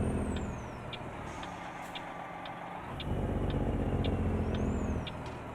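A heavy truck hauling 19 tons of tires in American Truck Simulator rumbles steadily, its engine swelling louder midway, with a hissing air-brake burst and faint, evenly spaced beeps over the drone.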